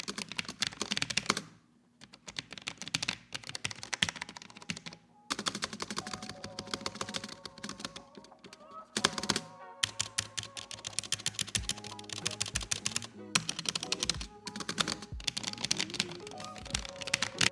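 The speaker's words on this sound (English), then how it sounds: "Now I'll go ahead and give you guys a sound test now so you can hear it for yourselves." Steady typing on an Alienware AW510K low-profile mechanical keyboard with Cherry MX Red switches, producing quiet, fast clusters of soft clicks and key bottoming with brief pauses between bursts, close and alone.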